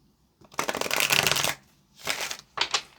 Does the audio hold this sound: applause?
no